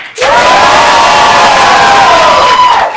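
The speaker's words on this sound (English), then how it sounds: "we got clap for Batman" A live stage-show audience erupts in loud, sustained cheering and clapping to vote for a Batman contestant, a continuous roar of shouts and whoops lasting a few seconds before cutting off.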